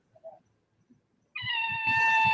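A cat gives one loud, drawn-out meow close by after a few faint soft sounds, the call holding steady and strong to the end.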